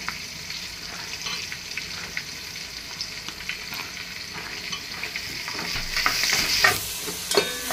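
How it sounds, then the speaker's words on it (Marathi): Onions sauté in a pan for chicken dum pulao, with a constant close sizzle broken by scraping stirs that grow louder and busier toward the end. "आता आपला हा कांदा, या कांद्याला नॉर्मल गुलाबी रंग येईपर्यंत परतवायचा आहे आपल्याला"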